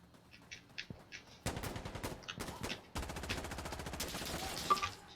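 Gunfire in the shooter game Insurgency: Sandstorm, with a few sparse distant shots followed by sustained rapid automatic bursts that grow louder and denser toward the end.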